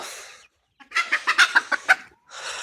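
Local deshi chickens cluck close by on a cold winter day, about seven short rhythmic clucks in quick succession, framed by soft rustling noise before and after.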